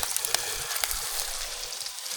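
Smoked beechwood bacon sizzling over a braai fire, a dense steady hiss with light crackles and pops, no talk.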